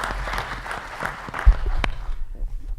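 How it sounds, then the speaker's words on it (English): A crowd at a city council district event applauds briefly, with a burst of scattered clapping that thins out and fades after a couple of seconds. "Give him a round of applause"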